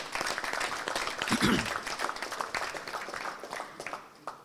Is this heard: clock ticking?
no